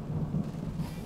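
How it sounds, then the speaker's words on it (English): Thunder from a thunderstorm outside, a low continuous rumble that stays steady and moderately loud throughout, with no voices over it. "There's a thunderstorm outside."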